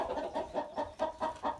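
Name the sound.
hen clucking in chicken coop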